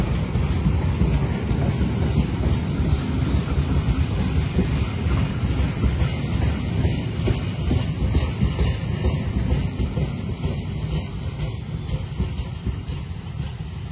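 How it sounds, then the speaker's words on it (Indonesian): The Pandanwangi passenger train from Ketapang, Banyuwangi, to Jember rolls into Kalisat station on track 2, a loud continuous rumble of wheels and carriages with wind buffeting the microphone. "Ini kereta api Pandanwangi ya, dari Ketapang, Banyuwangi tujuan Jember, masuk stasiun Kalisat di jalur nomor 2."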